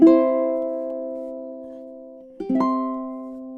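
Ukulele plays the closing chords of a song: one strummed chord rings and fades, then a second chord is struck and sustains, clean and close with no talking.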